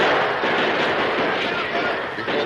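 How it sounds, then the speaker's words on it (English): A dense, continuous roar of battle gunfire from a train fight in a radio drama, heavy and sustained with no distinct gaps, loud throughout. "From the train, more gunfire broke out."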